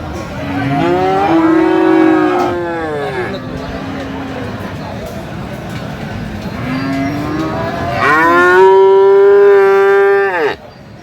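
Loud, close moos from Friesian and crossbred bull calves, two long drawn-out calls separated by a stretch of murmuring crowd noise at a busy livestock market in Aftabganj.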